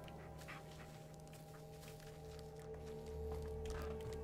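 Bullet, the dog in the video game Blair Witch, pants in quick, soft, repeated breaths close by over a low droning game ambience, the breathing faint and rhythmic throughout.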